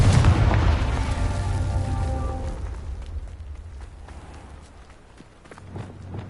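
Confringo blasting spell from Hogwarts Legacy on PS5 detonates in a loud, booming explosion at the start, with rumbling debris and a tonal ring that decays over a few seconds, followed by quieter game ambience.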